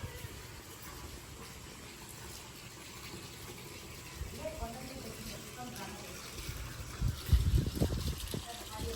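Water runs steadily from a household tap, a continuous rushing wash that swells louder toward the end, with a few voices talking over it.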